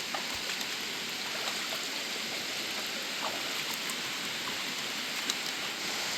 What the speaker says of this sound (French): Bon, ça pleut de plus en plus fort par contre.